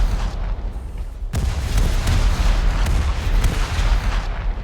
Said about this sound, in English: Let's try and see if we can shoot a torpedo out